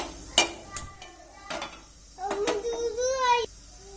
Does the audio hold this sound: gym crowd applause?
no